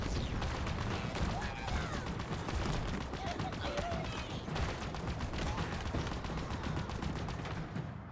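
Rapid gunfire from a Jackal sniper and surrounding combat in Halo Infinite, a dense, continuous crackle of shots and mechanical noise with a voice talking over it.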